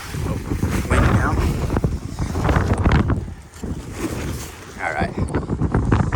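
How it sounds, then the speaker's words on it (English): Strong wind whipping across open ground during an on-land kite flight test, a loud continuous roaring buffet with surging gusts against the microphone, with someone talking over it. "definitely more wind now"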